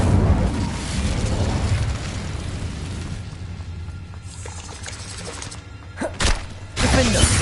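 A fire spell cast in Hogwarts Legacy: a sustained roaring, crackling blast fills the first few seconds, then thins out before short bursts of impact flare near the end, with game effects layered throughout.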